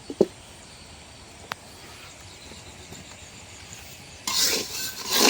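Moong dal being dry-roasted in a pan, stirred with a utensil that scrapes and clinks a few times over a faint steady hiss, then a louder rustling sweep of grains near the end.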